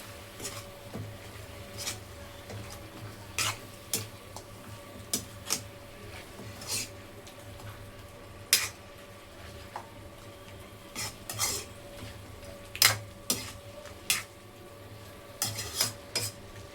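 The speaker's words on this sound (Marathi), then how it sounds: "आणि आता चिकनला मी चांगलं परतून घेतलंय मेथी बरोबर." Chicken being stir-fried with fenugreek in a pan at home: a metal spoon scrapes and clanks against the pan in irregular sharp knocks over a faint steady sizzle.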